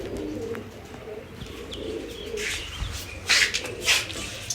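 Pigeons coo softly and repeatedly as grain and water are put out for them, low throaty calls close by, with a few brighter chirps rising near the end.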